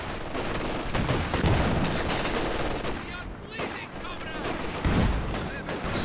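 Rapid bursts of game gunfire and explosions from a Company of Heroes 2 1v1 match, with a T-34 tank firing, loud and continuous with dense overlapping shots throughout.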